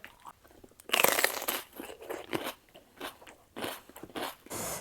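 Crisp fresh vegetables served with a seafood som tam are bitten and chewed up close, giving a run of sharp, crunchy bites with short pauses between them and no talking.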